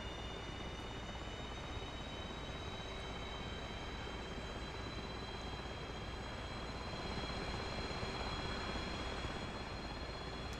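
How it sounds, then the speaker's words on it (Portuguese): An F/A-18C jet engine spools up during an air start on external power aboard a carrier in the DCS flight simulator, giving a steady, dense roar with a faint high whine held throughout. "Beleza, motor subindo."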